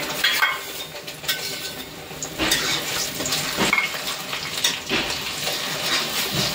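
Chopped raw tomatoes sizzling in a hot pan for paneer masala, with steady frying hiss and scattered stirring scrapes and clinks, close and moderately loud, no talk.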